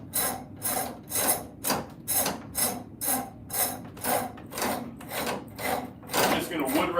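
A wood rasp shapes a piece of wood in about a dozen regular, rhythmic strokes, each a close, coarse scraping rasp separated by brief pauses.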